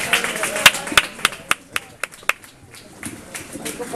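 Scattered handclaps from a small audience at a Spanish singing performance ring out as a dozen or so sharp, uneven claps. They are fairly close and thin out toward the end.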